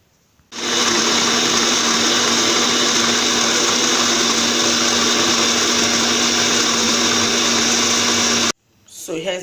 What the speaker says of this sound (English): I'll put it in my blender and blend.